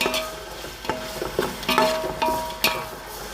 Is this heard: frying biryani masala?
yes